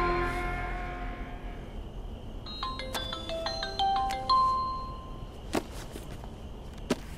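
A phone rings with a short run of bright electronic ringtone notes over a low background hum, followed by a couple of sharp taps near the end.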